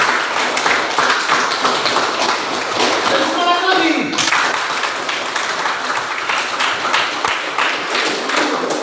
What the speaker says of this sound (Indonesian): kasih tepuk tangan dulu kelompok yang pertama